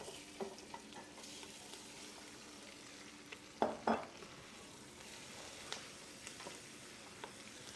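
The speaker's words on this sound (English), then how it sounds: "Now we got the onions frying, the onions." Onions and chicken fry in a pan with a quiet, steady sizzle. A couple of brief clatters from stirring sound near the middle.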